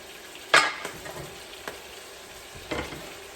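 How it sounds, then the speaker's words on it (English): Ingredients sautéed in a pan as the base for a brown sauce, a steady low sizzle broken by a few sharp scraping stirs of a spatula against the pan, close and moderately loud, with no talking. "I just want the flavour, just want to saute it a little bit."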